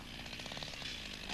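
Chainsaw delimbing felled trees in the forest, a loud buzzing two-stroke engine held at steady revving close by for a moment, slightly rough with faint background noise.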